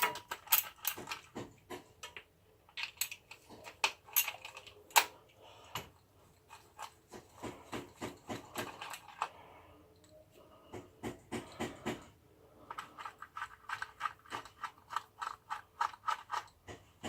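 A fastener is undone by hand with a ratchet on the gear shaft of a Triumph Tiger 800 motorcycle during a return-spring repair, giving quick bursts of close metallic clicking separated by short pauses.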